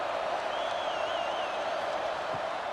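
Crowd noise at a Texas high school football game between Brenham Cubs and Waco Lions, a steady distant roar of the stadium crowd with a faint whistle-like tone drifting through.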